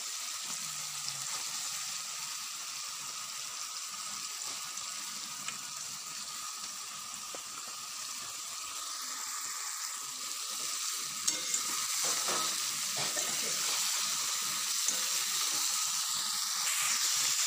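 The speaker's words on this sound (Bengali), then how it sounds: "ভিজিয়ে রেখে দিলে মশলা পেঁয়াজের সঙ্গে প্রায় একদম ই হয়ে গেছে এইবার আমি মাছগুলো দেবো" Fish fries in a pan with onion and ground spice masala, giving a continuous loud bright sizzle and hiss close up, with a few light clicks of stirring near the end.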